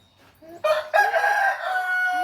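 Chickens at a Thai rural merit-making gathering, with a rooster crowing loudly and close after a few brief clucks, the crow rising sharply and holding steady to the end.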